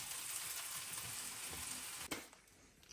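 Grilled cheese fries in a pan of mayo-based oil with a loud, steady sizzle and crackle that fades abruptly near the end, leaving a quieter hiss.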